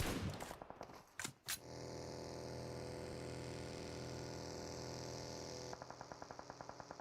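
Gunfire in a PUBG Mobile match: a few sharp shots early, then a steady humming drone, and near the end a quick regular burst of automatic fire at moderate distance.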